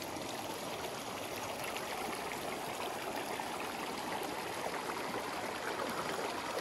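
Water flows steadily from pipes into a small village storage tank in a mountain village in Pakistan, a continuous close trickling and splashing stream with no pauses and no voices.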